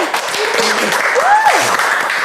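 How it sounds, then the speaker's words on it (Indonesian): A studio audience at an Indonesian podcast taping claps in a short, dense burst of applause, with a voice briefly calling out over the clapping. "Boleh tepuk tangan?"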